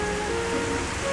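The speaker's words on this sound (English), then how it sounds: "rain had started to fall from the dark sky" Rain falling from a dark evening sky, a steady even hiss of drops spread across the whole moment, with no voices.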